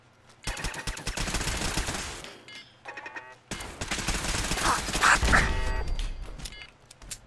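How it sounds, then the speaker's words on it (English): Gunfire in Fallout 4 as turrets are shot with a gun: rapid bursts of close, loud shots in two long volleys separated by a short pause, with metallic clinks scattered through them. "Now I can shoot turrets with a gun."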